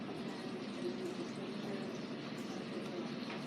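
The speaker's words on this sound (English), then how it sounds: "Add some water." Water is poured into homemade slime, a faint, steady trickling and filling sound that runs continuously at a low level with no talk over it.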